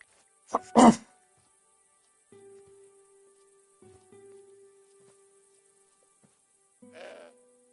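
A goat in the video game Broken Sword 5 bleats in two short bursts near the start, then a tonal game sound hums quietly before another shorter bleat-like cry near the end.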